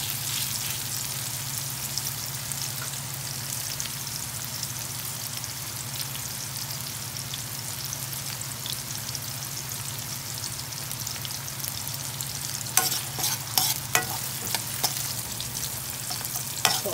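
Chopped tomatoes fry in hot, orange-tinged oil for a sautéed vegetable dish, a steady soft sizzle carrying on throughout, with a few brief scraping clicks of stirring near the end.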